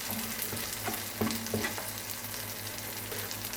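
An omelette filling of sucuk, tomatoes and peppers cooks in a pan with a soft, steady sizzle, broken by a few scraping stirs of a utensil against the pan.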